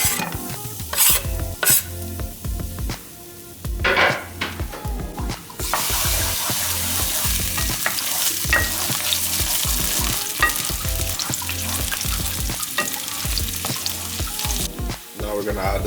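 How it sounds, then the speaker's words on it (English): Garlic fries in olive oil in a pan with a spoon stirring, starting with scattered scrapes and taps, then settling into a loud, steady sizzle that lasts until near the end. "now we're gonna cook some garlic in here"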